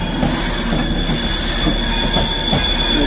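A passenger train running from London Euston to Edinburgh passes close by at Carlisle, a loud steady rumble of wheels on rail with sustained metallic squealing throughout.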